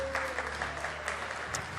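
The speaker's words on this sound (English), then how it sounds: "Huge round of applause." A convention crowd at a retro video game event applauds with brisk, overlapping claps that stay steady and close for a short burst.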